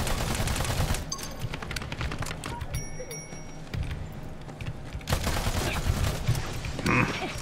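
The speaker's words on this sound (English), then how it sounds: "Stinger turret." Rapid gunfire and bursts of shots from a Stinger turret in the Battleborn video game, loud and busy with other combat effects and brief beeping tones throughout.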